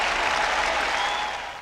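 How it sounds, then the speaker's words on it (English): A short burst of crowd clapping, dense and even, fading slightly toward the end. "Let's have a hand clap for that."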